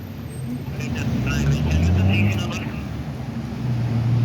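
Busy Boston street traffic on Albany Street, cars rumbling past at moderate distance in a steady swelling wash, with a voice talking over it.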